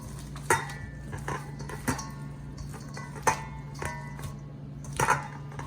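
Salad ingredients, including lettuce and halved egg for a keto Cobb salad, are gently tossed in a bowl, giving a series of light, irregular clinks and taps of utensils against the dish, fairly faint and spaced out.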